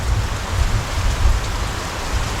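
Heavy rain pours steadily and loudly on surfaces outside a house, a dense unbroken hiss with low rumbling drumming throughout.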